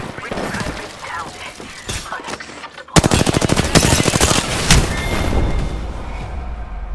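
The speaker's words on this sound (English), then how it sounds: "I'm under fire." Rapid automatic gunfire from the Apex Legends battle royale shooter erupts loudly and densely after a quieter stretch of game sounds with some speech, continuing as a sustained burst of closely spaced shots.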